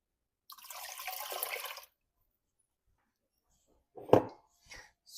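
Chicken stock pours into a pot of yellow chicken curry in one steady, close splashing stream lasting just over a second, followed by a sharp clunk and a couple of soft knocks.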